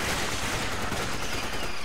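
Continuous gunfire from Resident Evil 5, a dense, unbroken burst of rapid shots filling the whole moment at steady loudness, with no voices over it.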